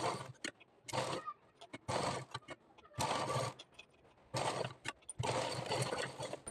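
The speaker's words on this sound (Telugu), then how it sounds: "ఫస్ట్ దీన్ని 4 పక్కల ఫోల్డింగ్ చేసుకొని కుట్టుకోవాలి." Sewing machine stitching a folded fabric piece for a blouse back neck, running in several loud bursts with short pauses between them.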